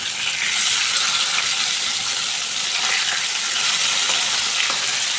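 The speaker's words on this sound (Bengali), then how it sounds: "এই পিঠটাও 5 মিনিট আমি অল্প আঁচে ভেজে নেব।" Bata fish frying in oil on low heat for a Bengali curry, giving a dense, even sizzle that holds steady throughout with faint crackles and no talking.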